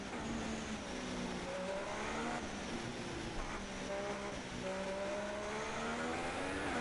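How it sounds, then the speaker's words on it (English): An F1 car in the F1 2016 racing game brakes hard on the Montreal circuit. Its engine whines in layered tones that slide downward, heard at a steady, moderate level with no voices. "Hard on the brakes."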